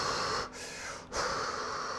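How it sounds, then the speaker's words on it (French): A person in cold water takes long, deep exhalations, close and breathy. Two slow breaths are separated by brief pauses, with no speech. "avoir des grandes et profondes expirations."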